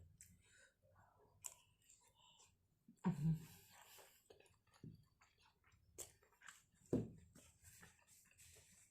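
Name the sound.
eating stir-fried fermented pork with shrimp paste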